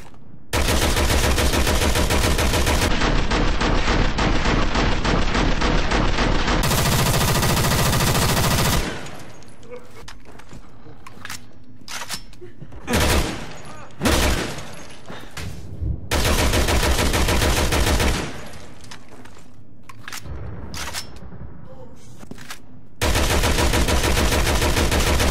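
Assault rifle RN gunfire in the video game Resident Evil 6: long, loud stretches of rapid automatic fire broken by quieter gaps and a few short bursts.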